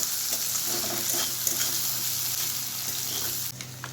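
Capsicum with a pinch of salt sizzles and fries steadily in a pan, a continuous hiss with faint scraping stirs throughout, no voices present.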